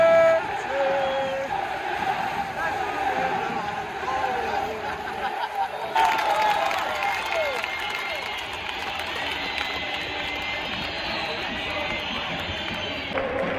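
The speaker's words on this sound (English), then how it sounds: "pretty lively home crowd here" A lively home crowd fills the open-air, roofless Sevilla stadium before kick-off of a Champions League match against Manchester City, producing a steady, distant roar of cheering and chatter that swells slightly midway and continues throughout.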